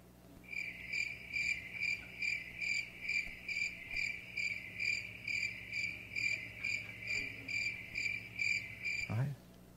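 Crickets chirp in a steady, loud pulsing rhythm of about a dozen evenly spaced bursts, stopping abruptly near the end, with a low background hum beneath.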